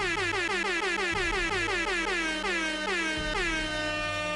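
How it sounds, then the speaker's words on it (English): A loud air horn sound effect blares in rapid repeated blasts, about a dozen short honks spammed back to back with no pause, ending in a slightly longer final blast. "Like the air horn sound effect I can just spam"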